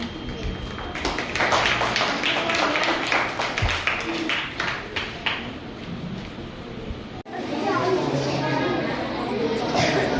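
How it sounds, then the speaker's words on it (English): A crowd at an Independence Day celebration claps steadily in a dense patter of applause after a dance performance, fairly close, which breaks off briefly and then resumes with a wash of noise. "Let's welcome them with a big round of applause."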